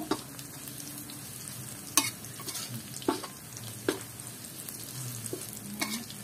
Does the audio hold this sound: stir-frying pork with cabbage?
yes